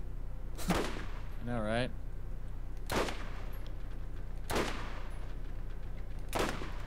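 Gunfire in the shooter game Borderlands: four sharp, loud shots spaced a second or two apart, with a brief electronic warble after the first and a short spoken remark between shots.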